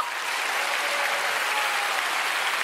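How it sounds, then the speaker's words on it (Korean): Korean church congregation bursts into sustained, dense applause during a Sunday service, a loud, even roar of many hands clapping together throughout, with no voices over it. "그 생명을 향하여 박수 한번 보내세요."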